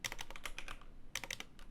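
Fast, light clicks from a computer keyboard come in two short bursts with a brief pause between them, recorded close and quiet.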